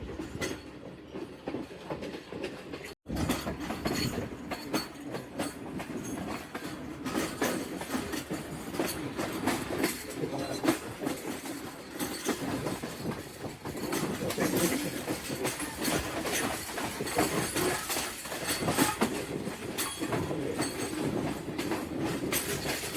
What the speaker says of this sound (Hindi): हमारा सफ़र जो है वो लाहौर की जानिब शुरू हो चुका है।